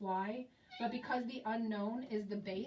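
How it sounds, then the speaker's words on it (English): A house cat meows during a math lesson, its cries mixed in with steady talking from a nearby speaker. "sorry, that's my cat, go away."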